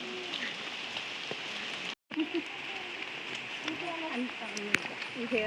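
Steady rain patters down outdoors on a walk in Ernakulam, Kerala, a continuous even hiss with a brief dropout midway, faint voices underneath.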